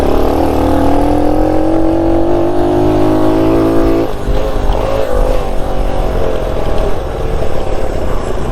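A 1969 Honda Trail CT90 motorcycle rides downhill, its small engine droning loud and close with a steady tone that drops in pitch partway through, then rumbles rougher and lower.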